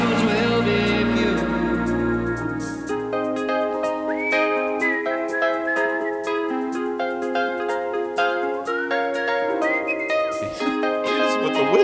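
A melodic whistled line from a 1979 song rides over piano and band accompaniment, bright and prominent in the mix, with no talk.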